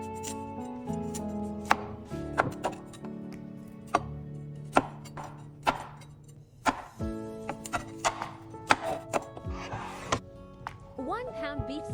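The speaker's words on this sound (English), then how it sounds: "Cuts 2 heads of broccoli into florets" A knife chops two heads of broccoli into florets on a cutting board, giving irregular sharp thunks and cuts at close range, with background music playing underneath.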